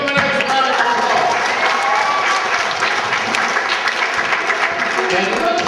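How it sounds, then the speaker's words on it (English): An audience at a school yearbook event breaks into loud, sustained applause, dense clapping filling the room from start to finish while a voice carries on faintly underneath. "Give him a nice round of applause."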